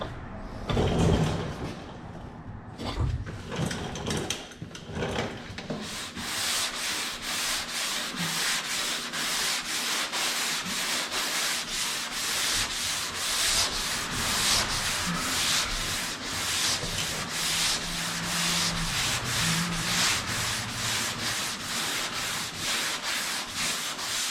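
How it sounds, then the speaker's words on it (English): Glaze body filler being sanded by hand on a car body panel before priming, a steady rapid back-and-forth rasp that runs continuously after a few scattered knocks and rubs at the start. "So I'll just glaze this small area right here, sand it out before I prime."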